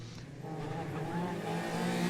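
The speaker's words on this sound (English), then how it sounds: "Lights out for the first time. Very good start by Murray." Mini Cooper race cars launch off the grid at Knockhill circuit in Scotland, a dense, steady roar of many engines revving and accelerating together, loud and sustained, with a commentator's voice faintly underneath.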